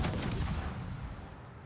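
Naval gunfire from a World of Warships battle, a heavy booming shot with a broad rumbling roar that sustains and slowly decays across the whole stretch, loud and close without any talk.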